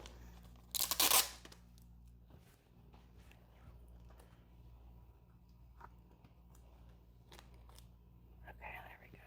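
Protective film is peeled off the screen of a Bambu H2D 3D printer in one short, loud tearing rip near the start, followed by quieter handling noises and faint room ambience.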